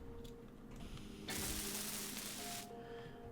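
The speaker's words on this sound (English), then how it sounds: "I'm just going to keep going over and back and weld these here up" A welding tool works on blocks in Space Engineers, giving a steady hissing, spraying buzz that starts abruptly, holds for about a second and a half and then cuts off, quiet against a faint background hum.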